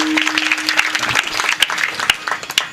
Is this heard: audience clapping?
yes